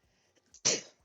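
A single sharp sneeze, close and loud, with a faint breathy intake just before it, then quiet.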